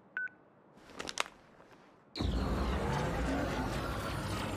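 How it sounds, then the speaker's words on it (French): An old-fashioned telephone being dialed in Crisis Core Final Fantasy VII gives a couple of short beeps and clicks, then a loud, steady noisy wash takes over. "Oh, le téléphone à l'ancienne."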